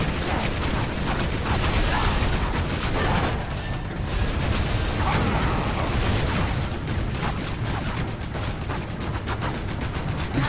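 Gunfire in Lara Croft and the Guardian of Light during a boss fight finale, dense continuous rattling shots and mechanical clatter, loud and unbroken throughout.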